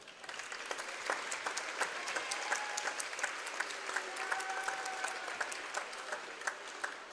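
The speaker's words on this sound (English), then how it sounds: "giving a big round of applause for these outstanding officials" A crowd in a school gym applauds the officials before a high school volleyball match, a steady spread of many hands clapping at moderate distance with scattered sharper claps and faint voices beneath.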